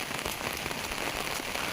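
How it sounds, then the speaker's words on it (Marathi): Steady monsoon rain patters on leaves and surfaces nearby in a Konkan forest, a dense continuous hiss of drops with no voices. "पाऊस आहे आज बराचसा"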